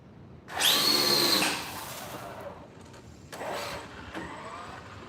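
A Traxxas Drag Slash RC car's electric motor whines up sharply in a loud burst as its tires spin, then a second shorter, softer burst follows after a pause.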